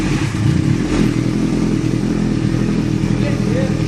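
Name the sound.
Kawasaki Ninja ZX-14R motorcycle engine revving with slip-on exhaust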